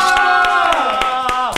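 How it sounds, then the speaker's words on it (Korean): A group of people claps in a quick, regular rhythm, the claps loud and close, with sliding vocal cheers over them. "다들 박수!"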